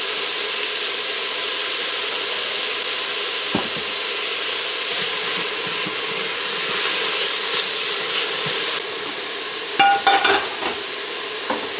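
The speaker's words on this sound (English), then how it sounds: "So we are adding our peppers, the red and green bell peppers now." Red and green bell peppers hitting a hot pot while cooking seasoned rice, a loud continuous sizzle and hiss with stirring scrapes and a few clinks near the end, no voices.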